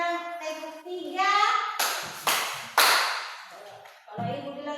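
Schoolchildren answer a teacher's count with three loud, crisp group claps in a steady row, framed by the teacher's spoken instructions and children's voices before and after.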